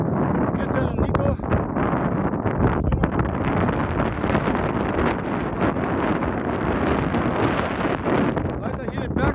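Strong wind on a mountainside on the Isle of Skye in Scotland, buffeting the microphone in loud, continuous gusty roars with rumbling low rushes for the whole stretch.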